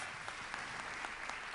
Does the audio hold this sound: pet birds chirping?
no